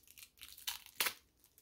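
Plastic packaging around a Halloween cereal toy is torn and crinkled open at close range, giving a few quick rips and crackles, the loudest near the end, with no talking.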